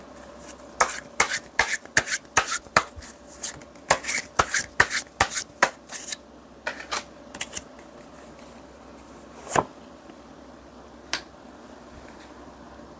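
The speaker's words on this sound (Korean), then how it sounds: "우리 이번 분들을 위한 메시지 카드 한번 뽑아 볼게요" Tarot message cards are shuffled and drawn, a run of crisp, close card flicks and snaps in quick succession that thins into a few scattered taps, with no voices.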